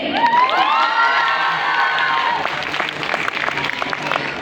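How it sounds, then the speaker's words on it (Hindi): Audience at a college stand-up comedy show bursts into loud, sustained applause and cheering, with shrill whoops and shouts rising over the clapping at first before settling into steady clapping. "तालियां भी उतनी जोर से आनी चाहिए"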